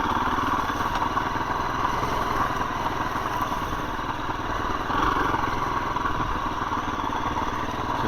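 A 2021 KTM 350 EXC-F dirt bike engine runs steadily nearby, a smooth, even mid-pitched hum with light mechanical clatter that holds constant throughout and has no talk over it.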